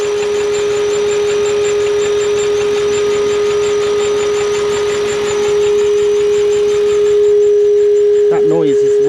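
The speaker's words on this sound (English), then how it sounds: "That noise is weirdly the fuel pressure regulator." A turbo V8 Mercedes CLK idles with a steady, piercing whine from the fuel pressure regulator over a constant engine drone, and a brief louder burst comes near the end.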